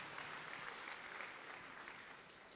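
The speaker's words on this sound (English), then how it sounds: "Clap your hands." Church congregation clapping hands together, a dense continuous patter of many hands that stays loud and steady throughout, with no pauses.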